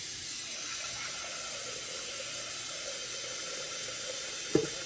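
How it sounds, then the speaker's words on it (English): A steady broadband rush of hot water running from a tap into a pan, constant and close, ending with a brief sharp clunk near the end. "I have my hot water running."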